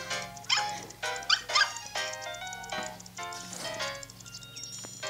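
Cartoonish dog barks and yips from the Nintendogs + Cats video game ring out in several short bursts over soft game music, fairly close and moderately loud, with no talking.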